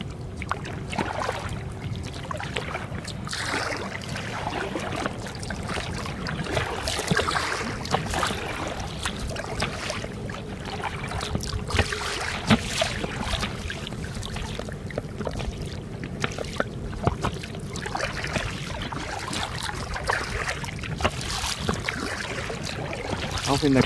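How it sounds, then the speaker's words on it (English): A canoe is paddled back across the Lady Musgrave lagoon to an anchored boat, with steady splashing strokes and water noise running throughout under a blustery, rumbling background. "Off in the canoe, paddling back."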